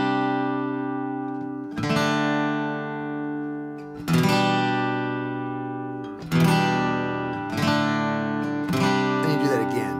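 Strummed acoustic guitar chords ring out in a slow progression, each chord struck roughly every two seconds and left to sustain and decay, played alone and close with no voice over it.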